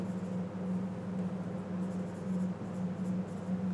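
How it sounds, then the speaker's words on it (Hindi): Marker or chalk writing out a question on a board during an English lesson, a steady close scratching with a low hum underneath and no talk. "लेकिन यहीं पर मैं क्वेश्चन लिख दूँ"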